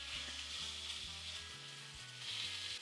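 Beef sizzles and fries in a hot sauté pan with olive oil: a loud, continuous crackling hiss, close up and uninterrupted, with no voices.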